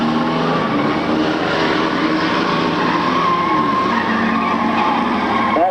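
Race cars roar through a 10-lap heat race, a loud, continuous blended engine drone with tire noise, steady and close, with no talking.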